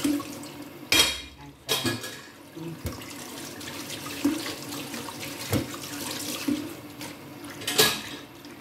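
Running tap water splashes into a sink while pots and dishes are washed, with occasional clinks and knocks of cookware against the basin, close and steady throughout.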